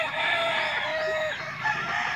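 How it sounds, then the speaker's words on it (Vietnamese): A four-month-old Asil Pakistan rooster crows in a drawn-out, close, fairly loud call that fills the moment, with other chickens around and no voices. "Một tốp gà Asian Pakistan 4 tháng nha đó."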